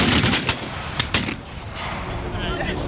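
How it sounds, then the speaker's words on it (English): Parliamentarian artillery fires during an English Civil War battle reenactment, a few sharp booming reports in the first second and a half over steady outdoor crowd and field noise, with voices faintly in the background. "Parliamentarian artillery."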